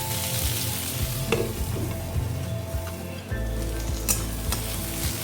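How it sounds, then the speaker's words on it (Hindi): Capsicum for chilli soyabean cooks in a pan over a medium flame, a constant crackling sizzle with occasional stirring clinks and a low steady hum beneath. "फ्लेम को मीडियम रखेंगे और कैप्सिकम को थोड़ा कवर करके सॉफ्ट होने तक पकाएंगे"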